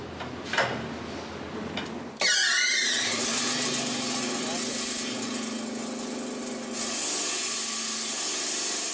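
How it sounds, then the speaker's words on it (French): Huge diamond saws slice through amethyst geodes in a Brazilian cutting factory, a loud, steady grinding whine with a sustained humming tone that starts abruptly and continues, with a voice speaking over it. "Il les coupe grâce à d'énormes scies à diamants."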